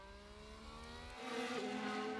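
Race car engines in F1 Manager, two cars running side by side into turn one, a steady high-pitched whine that rises and swells louder partway through as they close in, with no talk.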